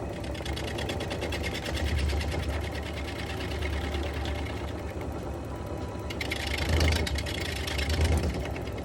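A wood lathe hums steadily while turning a bog oak vase, with a constant mechanical drone and faint scraping as a carbide-tipped tool cuts, heard close and without talk.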